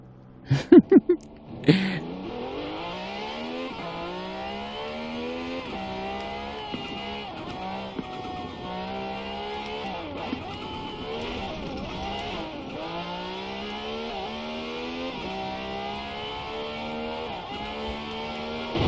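A car engine in the racing game Forza Horizon 4 revs hard through repeated gear changes, its rising harmonic sweeps steady and loud after a brief burst of impacts at the start.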